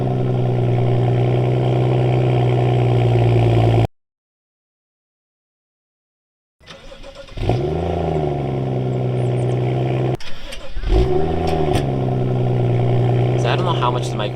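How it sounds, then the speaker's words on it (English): A Porsche GTS car engine idles with a steady low drone, cuts out into silence, then fires up again on a cold start and revs in rising and falling swells, loud and close. "the point of the GTS startup roar is to basically raise the revs when it's on cold start"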